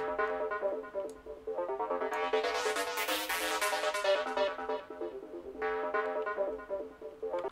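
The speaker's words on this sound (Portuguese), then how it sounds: "E para um arpejo, que é uma nota tocada de cada vez, ela soa mais ou menos assim." An arpeggio in a trance track, its notes sounding one at a time in a quick, continuous stream of bright synth tones that swell and fade, with no talking.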